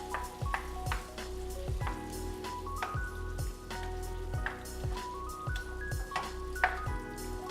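Meat sizzling gently in a pan on low heat, a soft continuous crackle dotted with regular small pops and spatters, fairly quiet and close, with no one speaking.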